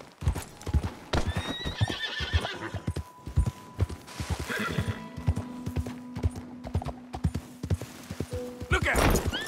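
Horse in Red Dead Redemption 2 clip-clopping at a gallop in a steady rapid hoof rhythm, with a whinny and game music tones over it and brief voices calling out.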